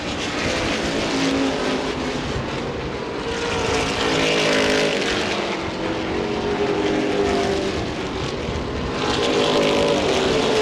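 Street stock race cars roar around the Lucas Oil Raceway oval in Indianapolis during a CRA race, engines droning loudly and continuously with swelling passes.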